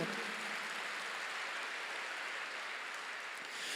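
A church congregation applauds in a sustained, dense patter of clapping that holds at an even level for a few seconds with no voice over it.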